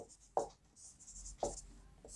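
Pen strokes scratch across paper in short bursts as a math solution on arithmetic progression is written out, close and fairly quiet, with no one speaking.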